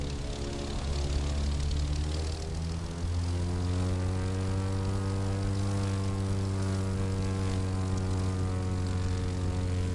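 In The Crew 2, a propeller airplane flying low drones with a strong, steady engine hum and layered harmonic tones that shift slightly in pitch, loud and continuous with no talk.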